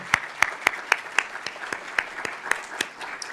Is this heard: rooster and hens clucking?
no